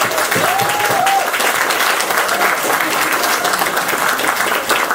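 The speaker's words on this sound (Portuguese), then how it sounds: "eu queria primeiramente uma salva de palmas a todo mundo aqui presente" An audience claps at a world launch event for the book The Fall of Gondolin, a dense, even wash of applause held at a constant level, with a brief voice near the start.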